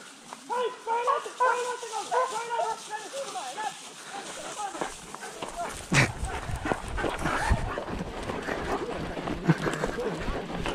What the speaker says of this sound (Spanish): Oye, quítale ese conejo al perro, Juan, en la casa.